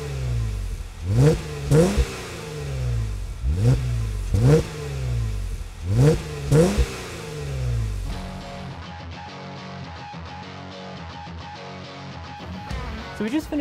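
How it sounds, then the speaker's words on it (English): A 2017 Jeep Wrangler JK fitted with a Magnaflow exhaust revs hard five times in a row, each deep, throaty blip rising and falling, then the engine settles into a steady low idle rumble, all close up and loud. "this exhaust is gonna give us exactly what we're looking for, which is a lower exhaust note and some additional exhaust volume"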